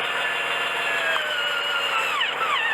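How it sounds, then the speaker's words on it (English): A power drill bores through a plastic truck mud flap, giving a steady close whine whose pitch shifts slightly as it cuts, with no voices. "you just drill right over"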